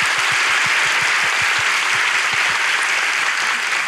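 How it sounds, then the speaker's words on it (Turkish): Studio audience at a Turkish relationship quiz show in Ankara applauding steadily, a dense continuous wash of clapping with low thumps, filling the room without any speech over it. "İlişki testi Ankara'da alkışlarla devam ediyor."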